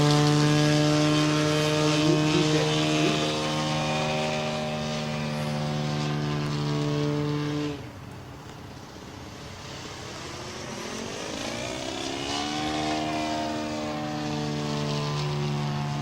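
A 40% scale Jungmeister aerobatic model biplane flies overhead, its engine a loud, steady buzzing drone that dips sharply midway, then climbs and shifts pitch as the plane turns through a maneuver.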